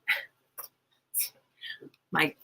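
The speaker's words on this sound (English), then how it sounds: "My little puppy is barking at her witch's hat, or actually it's the sorting hat." A puppy barks at a Harry Potter sorting hat, a witch's-hat style toy: five short, sharp, high-pitched yips spaced irregularly, close by in a quiet room.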